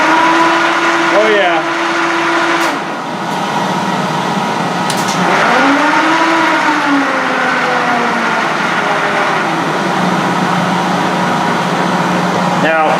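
Hendey lathe running in direct drive, a steady mechanical whir and hum with shifting tonal whines as the speed changes, close and continuous, with a few short clicks.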